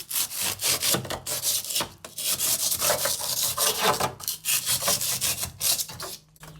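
Bread knife sawing through excess foam insulation in a box van conversion: loud, close rasping back-and-forth strokes in a steady rhythm, with a couple of short pauses between bursts.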